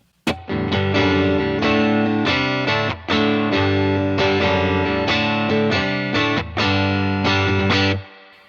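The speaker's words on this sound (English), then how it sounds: "we're just going to hear the Tele neck pickup through the Dream on its own" Electric guitar chords from a Telecaster neck pickup strummed through a UAFX Dream '65 amp pedal, a steady rhythmic pattern with brief pauses between phrases, loud and close with no talking.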